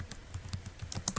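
Soft, rapid keyboard typing as text goes into a Google document, a quick irregular patter of light key clicks, faint and close, with no voices.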